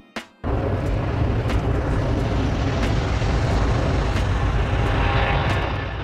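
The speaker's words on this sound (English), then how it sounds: "The Airbus Beluga XL is a massive European cargo aircraft inspired by the beluga whale." An Airbus Beluga XL, a huge European cargo aircraft, roaring steadily with a broad, loud engine drone after a brief sharp opening noise.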